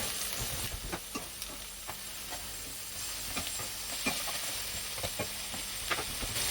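Handmade beef mince burgers sizzle and hiss steadily in a hot frying pan just after being flipped, a continuous close crackle with scattered sharper pops and spatters throughout.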